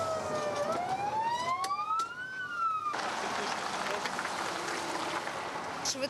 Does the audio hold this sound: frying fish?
no